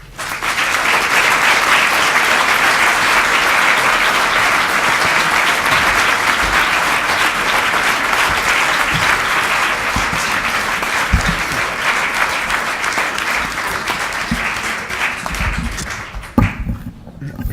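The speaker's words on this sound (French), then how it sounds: "la longueur des applaudissements dit bien ce que tout le monde pense" Long, sustained applause from a lecture audience at a talk on electrical and chemical neuromodulation for walking, a dense steady wash of many clapping hands that carries on for many seconds before fading out near the end.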